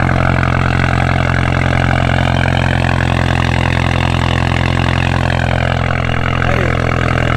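A Suzuki GSX-R 600 motorcycle engine idles steadily after starting, a loud, close, even drone that holds for several seconds with no talk over it.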